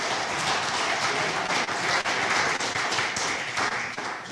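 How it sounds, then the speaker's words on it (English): A crowd applauds steadily, a dense wash of many hands clapping at full volume without pause. "once again, round of applause for all the presentations today."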